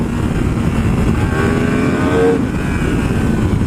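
Yamaha R1M sport bike with Öhlins suspension riding along a mountain road, a steady loud engine drone with rushing wind throughout, no talk.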